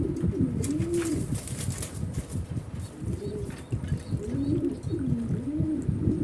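Pet pigeons being fed coo in a steady series of low, rolling calls close by, with occasional light wing flutters and faint chirps.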